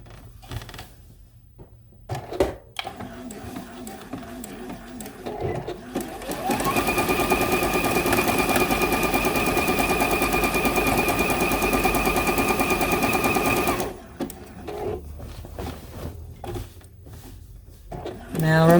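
A sewing machine stitches a quilt top in one long, loud, steady run with a whirring hum. Shorter bursts and handling clicks come before it and after it.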